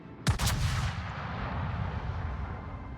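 A World of Warships main battery fires at a distant target in a single loud, booming salvo with a sharp crack. A long rumbling tail fades over the next few seconds, with no voices.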